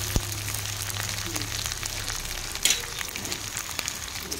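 Sliced French beans sizzle gently in a little oil in a pan while being prepared for achar. A soft, steady frying hiss runs throughout, with a few faint clicks and one brief louder clatter midway.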